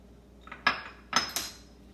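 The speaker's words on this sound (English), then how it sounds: "Just give that a good mix." A spoon stirs seasoned vegetables, salted and peppered, in a pot for chicken pot pie, giving three or four sharp metallic clanks and scrapes against the pot in an otherwise quiet kitchen.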